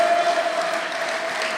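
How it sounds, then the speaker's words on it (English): An audience applauding: a soft, steady wash of clapping from a crowd heard at a distance, with a faint tone running underneath. "another round of applause"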